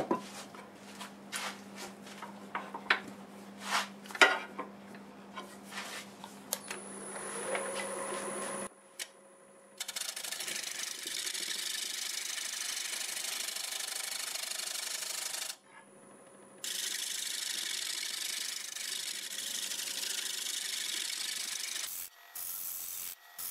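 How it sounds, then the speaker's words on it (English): A wood lathe spins a segmented ripple bowl turned from a board as a negative rake scraper works the surface, giving bursts of close, gritty scraping over a steady hum with brief pauses between passes. "I'll go over it with a negative rake scraper"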